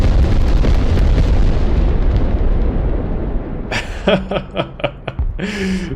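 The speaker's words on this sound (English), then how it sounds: "Huge strike. Oh, big carpet bomb." A carpet bombing strike in the video game Broken Arrow sends loud, continuous rumbling explosions across the first several seconds. They give way to a series of sharp, separate blasts and pops toward the end.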